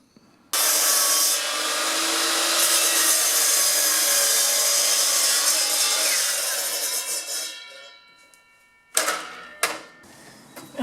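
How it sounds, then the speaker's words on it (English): A circular saw fitted with a 32-tooth blade rips through a composite decking board in one loud, close, continuous cut lasting several seconds, then winds down. A couple of sharp knocks follow near the end. "Now let's go ahead and cut our first board."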